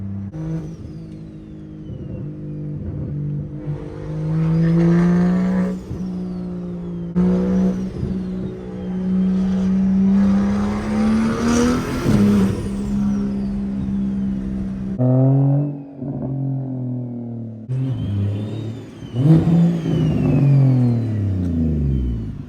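A straight-piped single-turbo BMW 335i revs hard, its loud engine tone rising and falling through repeated climbs and drops, with brief gaps between pulls and no talk over it.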